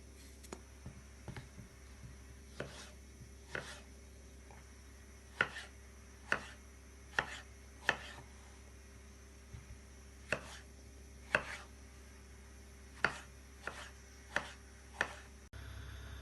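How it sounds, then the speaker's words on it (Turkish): Steady, spaced knife chops dicing potatoes into cubes on a cutting board, sharp individual taps repeating every second or so against a low background hum, with no talking. "6 tane patatesimizi küp küp doğrayalım."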